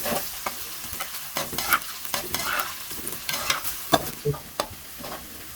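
A large onion fries in very hot ghee in a kadai, with a steady sizzle broken by repeated scraping and clanking stirring strokes, close and fairly loud, with no talking.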